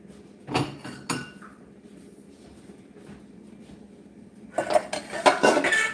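Dishes and cutlery clink during washing up: two sharp knocks near the start, a quiet stretch, then a busy cluster of clattering ceramic and metal toward the end, close by with no talk.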